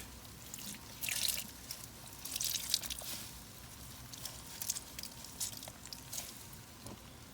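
Water is poured into clay being reclaimed, giving soft splashy bursts and trickles that come and go over several seconds, fairly close and quiet, with brief drips between.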